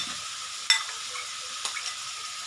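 Chicken, vegetables and tomato are stir-fried in a pan with a steady sizzle. Two sharp scrapes of the spatula against the metal cut through the frying, which sounds close and has no talking over it.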